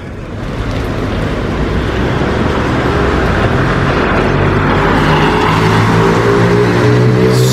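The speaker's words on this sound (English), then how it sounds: "there's more lorries arriving" Lorries arrive at a soaking wet construction site in Crewe, their heavy engine rumble and tyre noise on wet ground building steadily and filling the scene.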